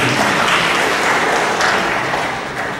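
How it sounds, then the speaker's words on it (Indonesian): Loud, dense applause from a crowd at an education congress, a brief burst of many hands clapping together that tapers slightly toward the end. "Tepuk tangan untuk kita."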